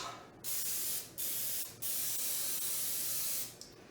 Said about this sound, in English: Make sure you're spraying in the corner,